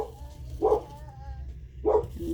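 A dog indoors gives two short, fairly faint barks about a second apart over a low steady hum, with no talking.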